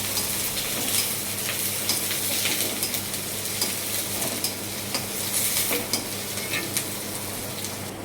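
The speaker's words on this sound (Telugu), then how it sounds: "ఆనియన్, పచ్చిమిర్చి వేస్తున్నాను." Sliced onion and green chillies sizzle loudly in a pan for egg fried rice, a dense, continuous frying hiss with frequent scraping strokes as they are stirred.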